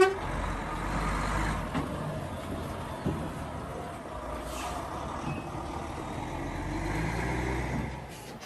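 The Happy Honey Bee truck pulls in with extra beekeeping supers at an outdoor beekeepers' field day: a moderately distant engine rumble, a sharp air-brake hiss, then more low engine drone.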